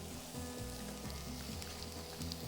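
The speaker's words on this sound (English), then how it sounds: "So I'll scoop all of that into the skillet." Chorizo and sliced onion sizzle steadily in a hot skillet, a dense continuous crackle with low rumbling texture, close and fairly quiet, no talk.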